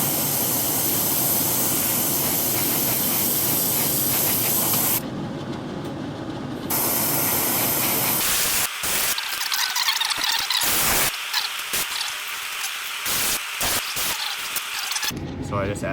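Airbrush loaded with orange paint hisses steadily while spraying a glide bait, a continuous close, loud spray broken by short pauses and a few bursts near the end.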